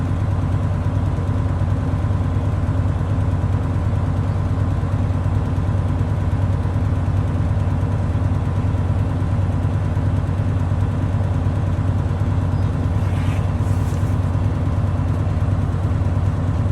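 A truck engine with air brakes held at a steady raised idle near 1100 RPM, a constant low droning rumble that runs evenly throughout without any change in pitch.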